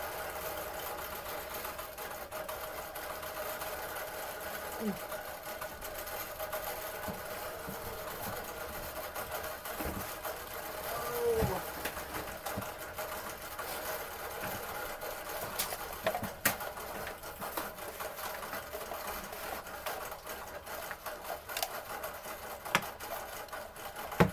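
A Bernina longarm quilting sewing machine on a 14-foot frame hums steadily throughout, with a continuous whirring texture and a few faint clicks and knocks along the way.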